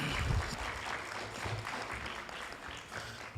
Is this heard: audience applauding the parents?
yes